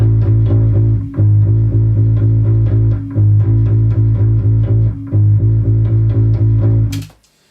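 A slightly cleaner rock bass guitar part pulses in loud, steady repeated low notes with short gaps between phrases, up front and alone, ending in an abrupt cutoff.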